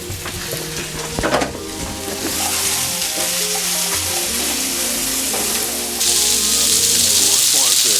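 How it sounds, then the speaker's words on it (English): Steady sizzling of peppers and onions frying in a pan, with stirring clatter and a brief louder burst; background music runs underneath. "Let it sizzle."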